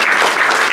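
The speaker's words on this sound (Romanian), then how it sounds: "să primim în aplauze corala bărbătească Te Deum Laudamus" Close, loud applause from an audience greeting a men's choir, a thick uninterrupted burst of clapping.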